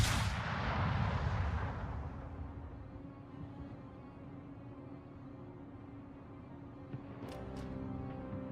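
Cannon fire in a video game, with one shot followed by an automatic reload of all guns: a loud booming blast that rolls off and fades into a steady rumble, with a few sharp clicks near the end.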